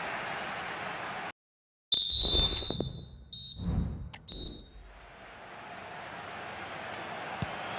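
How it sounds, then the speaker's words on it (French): A referee's whistle in the FC 25 football video game signals the end of regulation time between Real Madrid and Dortmund, several shrill blasts, a long one then short repeats, cutting through crowd noise in a stadium. "l'arbitre regarde sa montre et siffle la fin du temps réglementaire sur ce résultat nul"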